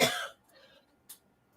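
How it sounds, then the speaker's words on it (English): A woman gives a short, fairly quiet cough, a brief burst followed by a smaller second catch of the throat, heard alone in a quiet room. "I do apologize if you do hear a cough"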